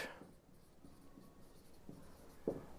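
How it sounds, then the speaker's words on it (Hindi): Percentage values being written on a classroom board, with a few soft, brief scratchy marker or chalk strokes at close range, quiet and alone. "यहां पे मैं सबसे पहले इंपोर्टेंट प्रतिशत की वैल्यूज लिख रहा हूं"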